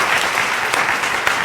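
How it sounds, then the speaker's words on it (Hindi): A crowd claps steadily at a Hindi poetry recital (kavi sammelan), a dense wash of applause that stays loud and even throughout. "तालियां।"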